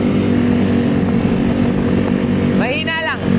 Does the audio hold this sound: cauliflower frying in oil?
no